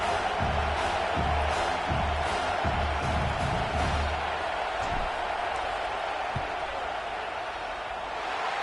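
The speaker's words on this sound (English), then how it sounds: "This crowd trying to do its part to get inside the kicker's head." A football stadium crowd roars steadily as a field goal is lined up in a college game, Ole Miss at South Carolina, a dense wash of cheering and whooping that fades slightly toward the end.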